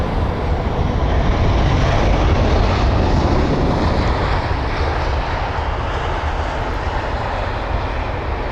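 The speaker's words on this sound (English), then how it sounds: "it is another British Airways aircraft with the flight number BA345" A British Airways airliner arriving at London Heathrow: a loud, steady broadband engine roar that swells early on and then slowly eases, heard alone without talk.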